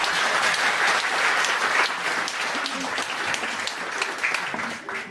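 A comedy lecture audience applauds on cue, a dense wash of many hands clapping fairly loudly and steadily for several seconds, easing slightly toward the end.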